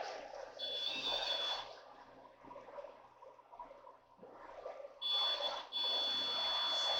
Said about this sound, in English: That's the beep that was going off.